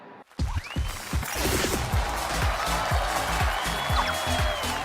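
A television studio audience applauds as guests walk onto the stage of a Chinese job-seeking show: dense, steady clapping starts abruptly and fills the whole stretch, with sharp percussive hits and whooshing stage effects mixed in.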